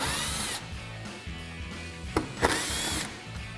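A power driver whirs in short bursts while backing out T25 Torx bolts from the front fascia of a Jeep Wrangler JL, nearby and steady, with a couple of sharp clicks between runs.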